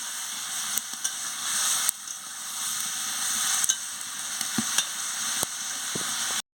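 Potatoes, pointed gourd and paneer sauté with a splash of water in a pan, giving a steady close hissing sizzle punctuated by sharp clicks of a spatula stirring against the pan, with no talking, before ending abruptly.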